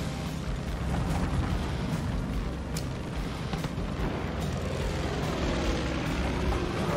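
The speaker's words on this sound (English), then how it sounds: "There's a fucking plane on my ass." An enemy plane roars overhead in the video game Far Cry 5, a loud, continuous propeller-engine drone with rumbling bursts mixed in, sustained throughout without speech.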